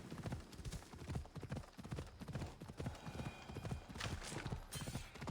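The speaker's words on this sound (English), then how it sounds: "Yeah, I'm riding a horse." A horse ridden in Assassin's Creed Odyssey, its hooves clip-clopping in a steady fast rhythm throughout, loud and close, with game ambience underneath and no talking.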